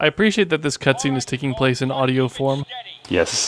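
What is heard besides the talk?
No distinct noise like a dog, phone or traffic.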